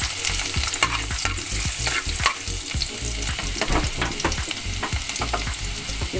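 Garlic sautéing in hot oil, a continuous sizzle broken by frequent scraping and stirring knocks of a utensil against the pan, close and busy.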